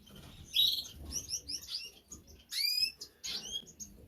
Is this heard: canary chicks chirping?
yes